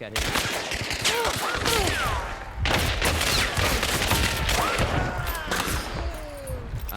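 Rapid fanned revolver shots in Hunt: Showdown, loud bursts of game gunfire packed close together over a constant wash of in-game noise, with whistling ricochet-like sweeps between the volleys.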